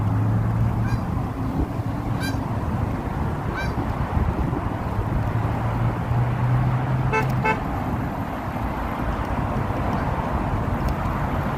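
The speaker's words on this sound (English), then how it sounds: "Hey, look at the geese." Geese honk in a few short repeated calls, fairly faint, over steady loud wind and rolling noise from a bike on the Chicago lakefront path.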